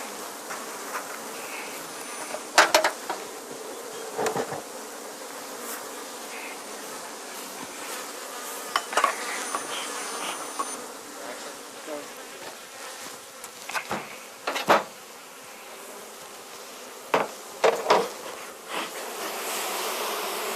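Honey bees from a young, growing colony buzz around their hive, a soft steady hum with individual bees zipping close past now and then, fairly quiet with no voices.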